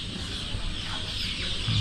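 Several native chickens cluck nearby in short, scattered calls over a soft background hum.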